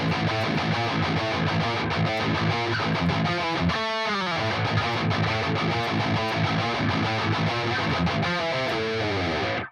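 A chunky, groovy distorted guitar riff chugs through a verse pattern, dropping out briefly for a break before the rhythm resumes at full level to the end.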